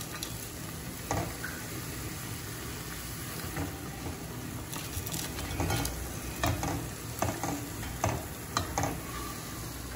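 Raw banana kofta fry in hot oil and are lifted out, giving a steady close sizzle broken by scattered clinks and stirring scrapes of a utensil, with no talk.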